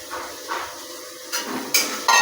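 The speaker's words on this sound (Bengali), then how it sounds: "এবার একটু ভাজা ভাজা হবে, এই একটু ভাজা ভাজা হচ্ছে" Chopped onions fry in hot oil in a kadai, a soft sizzle broken by a few sharp clinks of a utensil against the pan.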